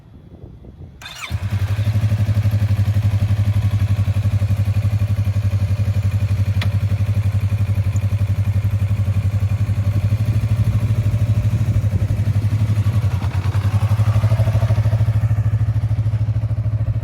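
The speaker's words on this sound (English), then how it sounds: "fire up the bike and let's get started" A motorcycle engine catches after a brief start-up and settles into a steady, loud, close idle for about fifteen seconds, with no talking over it.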